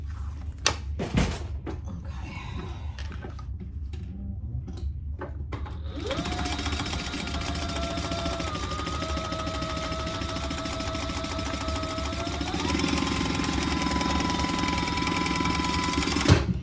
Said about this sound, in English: So I'm gonna sew this whole piece together.